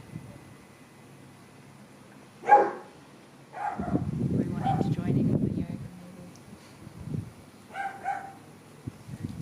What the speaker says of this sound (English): You can hear we have a few dogs in the neighbourhood.